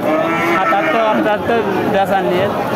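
Sahiwal cattle low and moo nearby amid a busy crowd at a cattle market, with people chattering and talking over the animals throughout.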